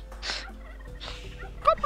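Turkeys gobble in the strategy game Age of Empires, two or three quick rattling gobbles in short bursts, close and clear, with a faint click at the end.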